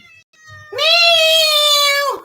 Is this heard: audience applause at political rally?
no